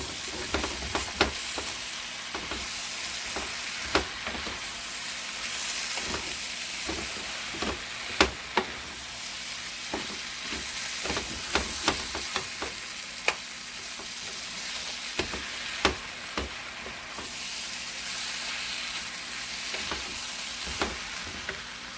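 Tortellini with zucchini and grated Parmesan sizzle quietly in a pan while being stirred, with soft scraping of the utensil and occasional sharp clicks against the pan, no talking.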